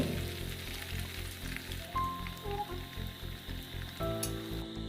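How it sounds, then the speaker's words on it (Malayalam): Beef pieces for Kerala-style beef chilli shallow frying in a little oil, a close, steady sizzle with light crackling and a low background hum, no speech. "ഇതിലേക്ക് ഓരോ കഷ്ണങ്ങളായിട്ട് ഇങ്ങനെ ഇട്ട് കൊടുക്കാം കുറഞ്ഞ എണ്ണയിൽ ഷാലോ ഫ്രൈ ചെയ്താണ് എടുക്കേണ്ടത്"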